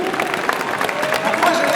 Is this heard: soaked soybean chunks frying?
no